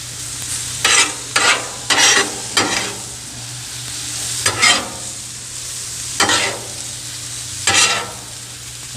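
Butter is stirred into carrots sizzling in a pan, a steady frying hiss broken by about six distinct scraping strokes of the spoon, close and clear with no talking.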